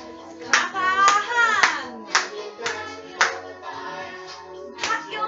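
Children clap their hands along to a kids' workout song, sharp evenly spaced claps sounding over upbeat music with a singing voice.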